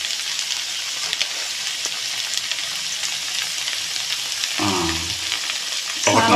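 Sliced okra and capsicum fry together in a hot pan, giving a loud, steady sizzle throughout, broken by occasional scraping knocks as the vegetables are stirred.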